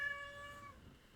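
A single soft, drawn-out cat meow, faint and close, fading away with nothing else around it.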